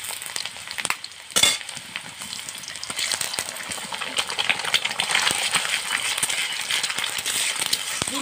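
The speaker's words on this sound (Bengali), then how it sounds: "ডিমটা দিয়ে আমি ভালো করে ভেজে নিব।" An egg with chopped onion and black and white mustard seeds frying in a pan: a steady hiss with scattered crackles and sharp scraping stirs, one loud clatter early on, sizzling growing busier toward the end.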